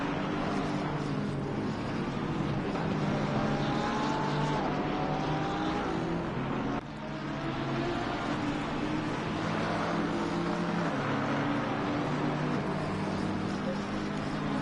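Bentley and Porsche GT race cars at Indianapolis in Assetto Corsa Competizione, engines droning steadily and loudly throughout, with a brief dip midway as one car shifts or passes.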